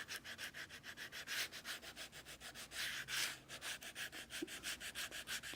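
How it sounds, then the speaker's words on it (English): Rapid, steady back-and-forth scratchy rubbing strokes of a sanding stick roughening leather, close up, about three strokes per second, with no speech. "with a sanding stick, I will"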